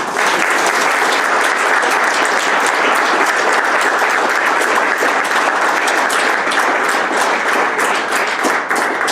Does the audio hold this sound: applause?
yes